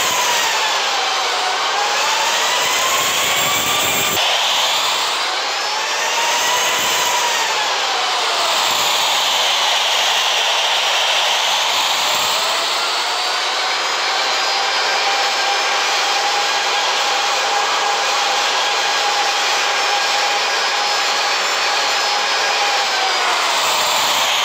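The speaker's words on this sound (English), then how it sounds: "Angeles Unicorn, American 5880, taxiing to runway 6 left." An American Airlines jet taxis to the runway, its engines a loud, continuous whine and roar whose pitch slowly rises and falls, with no voices over it.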